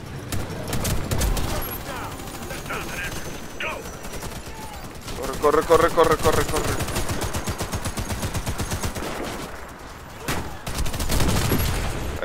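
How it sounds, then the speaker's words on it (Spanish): Gunfire in the video game Warface, with repeated bursts of rapid shots, some near and loud and others farther off, mixed with game sound effects and players talking over it. "Escucho balazos"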